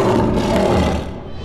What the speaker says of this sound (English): Give a roar, Mr. Lion.